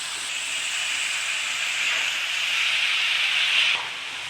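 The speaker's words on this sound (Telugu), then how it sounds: "కొద్దిసేపు ఏగేదాకా ఇలా కలదిప్పుకుంటున్నాం కదండి మధ్య మధ్యలో ఇలా కలదిప్పుకోవాలి" Broad beans with salt and turmeric frying in a pan, a steady close hiss rising slightly toward the end, with no voices and no distinct stirring knocks.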